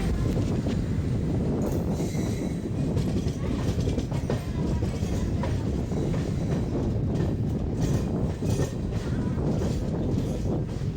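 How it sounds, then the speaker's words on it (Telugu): The Mysore–Howrah special train runs near Rajahmundry station, a continuous, close rumble of wheels and carriages with faint rhythmic clatter, steady and unbroken for the whole stretch. "అటుపక్క మైసూర్ హౌరా స్పెషల్ ట్రైన్ వెళ్తుంది"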